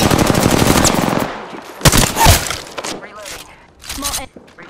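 Gunfire in Apex Legends: a rapid automatic burst at the start, then separate sharp shots and impacts with gaps between them, mixed with other game sounds.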